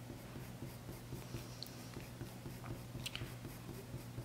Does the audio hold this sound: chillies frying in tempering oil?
no